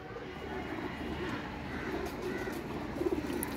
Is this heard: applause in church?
no